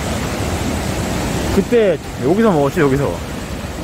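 Ocean waves wash continuously at a surfing beach on Jeju, a broad steady roar of surf with wind, and a person talks briefly over it in the second half.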